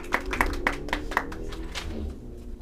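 An audience applauds a performer called to the stage, with a few distinct sharp claps up front and a looser patter of hands that thins out, against a low background.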